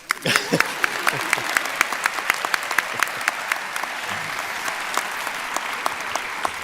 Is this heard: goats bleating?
no